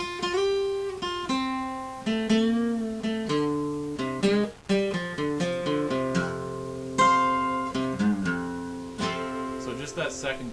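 Guitar playing the second part of a song: a clear, close run of picked notes and pull-offs with sustained tones, heard alone.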